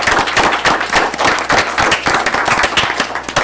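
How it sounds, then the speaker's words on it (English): Clapping for two student leaders from Carr Elementary School called up at a school district board meeting, a steady burst of many hands at close range, loud and continuous with a few sharper claps standing out. "Let's give them a round of applause."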